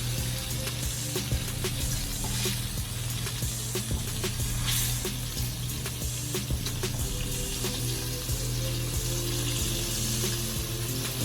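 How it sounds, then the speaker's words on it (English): Pork chops frying in a pan on medium to high heat, giving a steady, dense sizzle and crackle with scattered sharp pops throughout, close and continuous with no talk. "we're just gonna let it fry for like at least a minute on medium to high heat"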